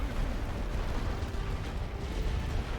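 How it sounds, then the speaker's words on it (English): Artillery barrage in The Great War: Western Front video game, a dense continuous rumble of overlapping distant explosions and booms, loud and steady with no talk. "Get another artillery barrage coming in."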